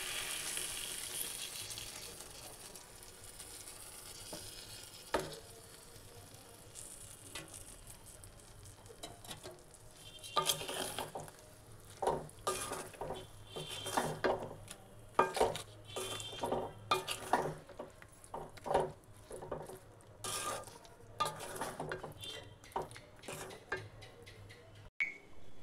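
Jaggery being stirred into a pan of cooking Indian plums, with a soft sizzle under irregular scraping of a utensil against the pan and a few sharp clinks, loudest in the second half.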